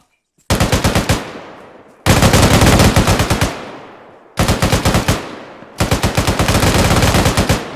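Close automatic gunfire from an infantry squad training exercise comes in four long bursts of rapid, evenly spaced shots, each trailing off in a ringing decay before the next burst starts.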